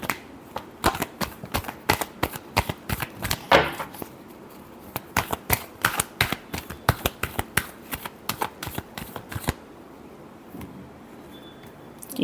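Tarot cards shuffled in a long run of crisp, rapid riffling snaps, steady and close, tapering off near the end with a faint pause.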